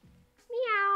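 A kitten meows once indoors in a kitchen, a single clear, rising then sustained cry close by, preceded by faint low rustling.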